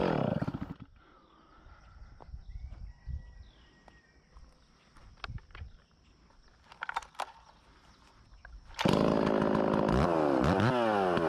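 A chainsaw bucks saw logs on a yard job, idling and sputtering in short bursts before revving up loud and close into a sustained cutting roar at the end.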